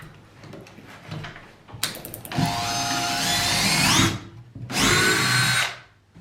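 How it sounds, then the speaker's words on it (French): An electric screwdriver runs in two sustained bursts with a brief pause between them, loud and close, rising in pitch as it spins up, with no talking over it. "On va contrôler la visseuse."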